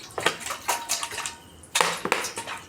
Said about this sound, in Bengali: একটা জায়গার মধ্যে আমি 1 লিটার জল দেব